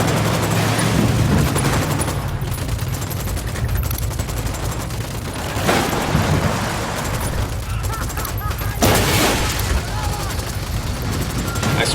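Gunfire fills a battle in Ghost Recon Wildlands, a loud, dense stream of shots with booming bursts throughout, while voices talk over it.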